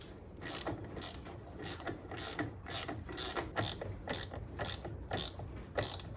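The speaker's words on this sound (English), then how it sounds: "next you want to unbolt the master cylinder from the brake booster. It's a 12mm socket" A hand ratchet with a 12mm socket clicks in quick, regular bursts while unbolting the brake master cylinder from the booster on a 2005 Toyota Camry 2.4L. The clicking is close and fairly quiet, and no one speaks.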